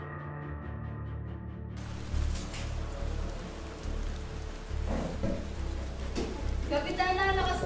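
Heavy rain pours steadily outside, a dense broadband hiss that swells after the first couple of seconds, with a few louder splashes and voices talking faintly beneath it.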